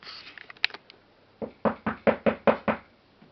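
A series of knocks on a door, a few quick light taps followed by a steady run of about seven firm, evenly spaced knocks, close and alone in a quiet room.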